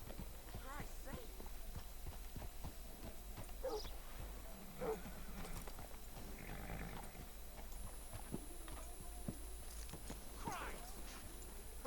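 A horse's hooves clip-clop at an easy, uneven pace on a town street in Red Dead Redemption 2, with soft thuds and jingles under conversational voices and faint ambient noise.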